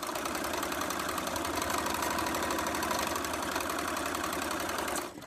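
A sewing machine runs at a steady, fast drone while stitching quilt fabric pieces for a canoe-themed quilt, loud and close, continuous for about five seconds before easing off at the end; no talking.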